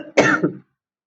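A man gives a single short, harsh cough, close and fairly loud, followed by silence.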